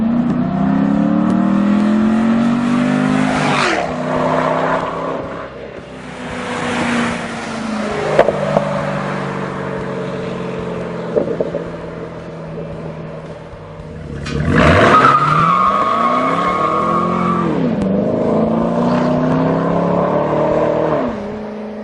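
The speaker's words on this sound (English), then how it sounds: "Both an acceleration and deceleration pass and just a little bit of money spent on tires." A 2011 Chevy Camaro convertible engine revs up and drops back in a loud, close acceleration pass followed by a deceleration pass, with rising and falling engine tones and a second surge near the end.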